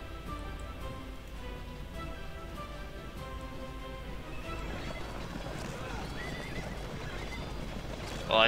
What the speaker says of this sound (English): All the horses can fight each other